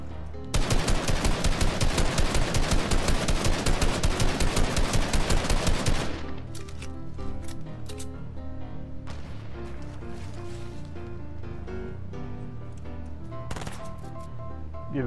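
Rapid automatic gunfire from an enemy in Fortnite, a dense loud burst for about six seconds that then gives way to game music and scattered effects.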